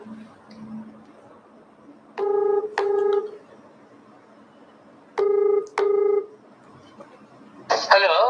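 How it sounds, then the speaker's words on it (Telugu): Four phone ringback tones come through a live television broadcast in two pairs, each a short steady electronic tone, over a faint background hum, and a voice follows at the end. "అయితే ఒకసారి ఫోన్ కలపండి"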